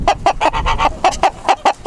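A chicken clucks close and loud, about a dozen short, sharp clucks in a quick, steady rhythm over two seconds, standing alone on a farm.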